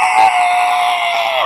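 A person imitates a child screaming at the cinema, a loud, sustained high-pitched wail held steadily for over a second with no other sound.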